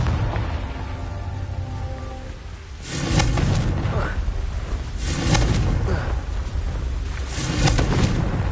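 Fiery Confringo spell blasts in Hogwarts Legacy, several rumbling bursts that swell and fade over a constant roaring background, with a voice speaking partway through.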